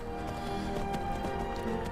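Horse hooves gallop in the video game Skyrim SE, a fast steady clatter of hoofbeats with game music tones underneath, continuous and fairly loud throughout.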